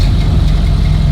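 A 1930 Ford car engine idling after a restart, a steady, loud low rumble with an even mechanical beat that holds throughout the short stretch, no voices.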